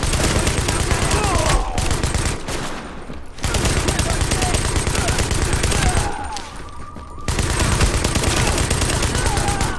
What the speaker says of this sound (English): Shooting this gun around a gas station, just realized, possibly bad move.